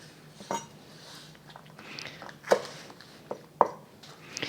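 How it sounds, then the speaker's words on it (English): A knife chopping green onions on a board, a handful of sharp, separate knocks spaced irregularly over quiet background, close and fairly crisp. "I'm also going to chop up some green onions for garnish."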